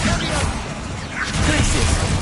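Bursts of spell effects in Hogwarts Legacy, including fire, disarming and blasting spells, crash and whoosh in a dense, loud stream against a spider fight, with a voice shouting the spell names over them.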